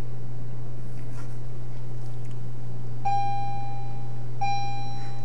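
A bell signals the end of a lesson with two clear electronic chime tones a second or so apart, ringing over a steady low hum in a quiet room.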